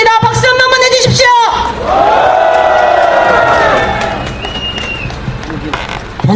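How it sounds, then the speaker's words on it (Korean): A crowd at a candlelight rally at Daehanmun in Seoul claps and cheers loudly. Whoops rise over the applause, which carries on strongly before tapering off near the end. "박수 한 번만 해주십시오."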